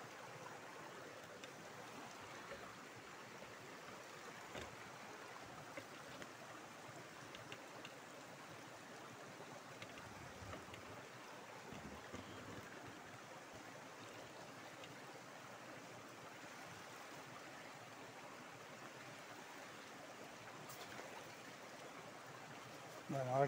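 Flowing stream water murmurs in the countryside, a soft, steady hiss and babble heard alone at low volume for the whole stretch.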